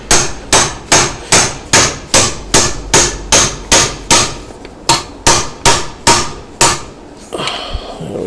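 Steady hammer blows drive a bush into a part of a Trimatic TH180 3L30 automatic transmission from a Holden Commodore during an overhaul, about fifteen sharp, evenly paced metallic strikes, loud and close, with a short pause near the end.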